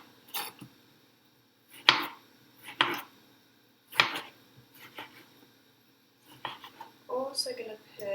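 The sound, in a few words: chopping fresh tomatoes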